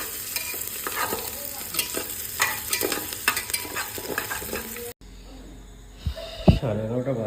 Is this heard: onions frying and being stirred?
yes